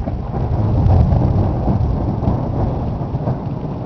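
Heavy rain pours steadily during an evening thunderstorm on a hilltop by a cabin, with low thunder rumbling and rolling underneath, loud and close, with no voices.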